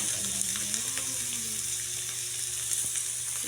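Dried fish sizzling in a pan, a steady broadband frying hiss running continuously throughout with faint crackles, close and moderately loud, no talking.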